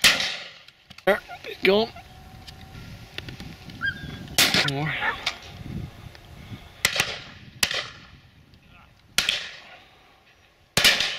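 Shotguns fire at pheasant and partridge on a driven shoot, sharp reports scattered across the scene, some loud and near, others fainter, with people talking between shots.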